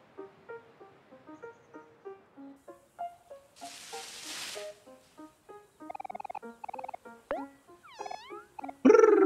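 A cat in the video game Omori gives a run of short, clear, repeated meows in a steady rhythm, growing busier and ending in a louder, rougher cry.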